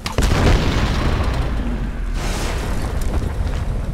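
A loud explosion in a video game blows open a temple door, booming just after the start, then a heavy roaring rumble continues without letup.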